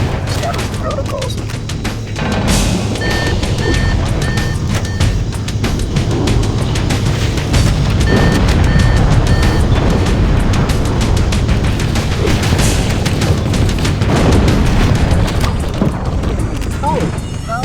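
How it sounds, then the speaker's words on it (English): Fusion reactor engines explode in Halo: Combat Evolved, a long loud rumbling blast with crashing bursts and scattered impacts that roll on for many seconds, with a voice speaking over the din. "That should be enough to trigger a wildcat explosion of the engines."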